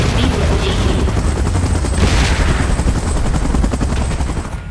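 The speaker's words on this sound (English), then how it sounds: "Evacuation measures. Chopper in position. Please evacuate immediately." A helicopter in PUBG Mobile's Titans Last Stand mode thumps loudly and continuously, its rotor chop mixed with bursts of gunfire and explosions in the game.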